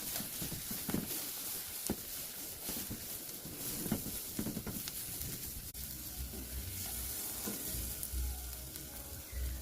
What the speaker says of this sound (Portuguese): Vou deixar agora dar uma fritadinha nesse alho.